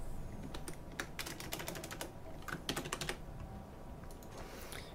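Fingers type on a computer keyboard in quick, uneven bursts of crisp key clicks with short gaps between them, fairly quiet and close, with no talking.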